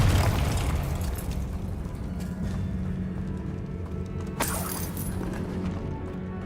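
A Confringo fire spell explodes in Hogwarts Legacy, a loud booming blast with rumbling low end that carries on under steady game noise, with a sharper burst near the end.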